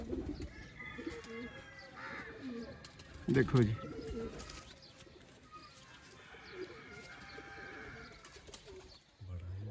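Sialkoti pigeons kept by a fancier coo in soft repeated rolls. Someone talks over them, and a louder burst of calls comes midway.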